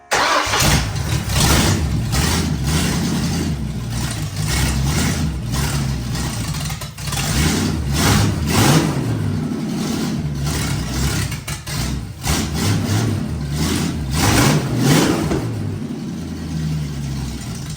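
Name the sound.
Ford 351 V8 engine running in Toyota AE86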